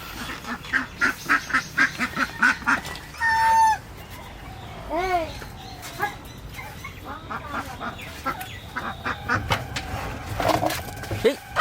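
Ducks bought at a market quacking in a rapid run of harsh calls, mixed with chickens clucking and squawking nearby, loud and close, with people talking.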